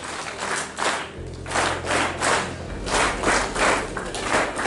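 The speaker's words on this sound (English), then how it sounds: "Let's clap for them also." An audience at a university open day claps together, the sound surging and easing in rhythmic waves of fairly close, mid-level applause with a low hum underneath.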